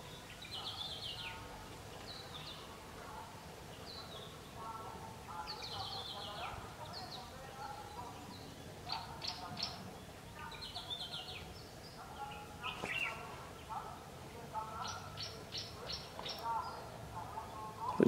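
Five wild African grey parrots feed on palm nuts, giving scattered short whistles, squawks and chirpy calls at a moderate distance over a quiet outdoor background.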